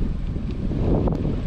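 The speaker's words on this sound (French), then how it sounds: "beaucoup de vent aujourd'hui" Steady wind roaring across the microphone on a quiet green route while bikepacking between Montebello and Gatineau in Canada, a continuous low rumbling buffet with no voices.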